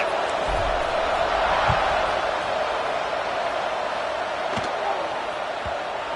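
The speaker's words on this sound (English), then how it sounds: "this crowd is feeling themselves after that last drive" Stadium crowd in the Madden 24 football game: a steady, dense roar of many voices at a constant level, with a few faint thuds underneath.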